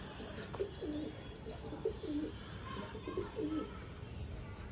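Repeated low pigeon coos come in short rolling phrases, fairly close, with a faint murmur of background noise underneath.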